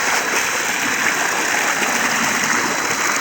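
Water gushes steadily out of a motor pump into a flooded village field beside the Ravi river, a constant close rushing hiss with no break and no voices.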